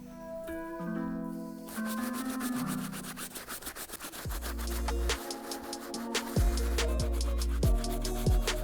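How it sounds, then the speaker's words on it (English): Soft bristle brush scrubbing the inside of a dusty Air Jordan 1 Shattered Backboard sneaker, a close, steady rubbing scrub with brisk strokes and a few sharper knocks, no talking. "We're gonna continue using the soft bristle brush."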